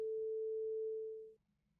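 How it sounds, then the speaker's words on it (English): A strange pure ringing hum from the game Chaos;Head Noah, a single steady tone that holds for about a second and a half and then cuts off, leaving faint quiet behind. "that little strange hum is probably the sound he was describing"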